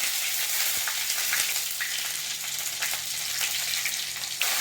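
Mustard seeds and cumin frying in oil in a clay pot on a stove, a steady bright sizzle with scattered small pops and crackles throughout, close and fairly loud.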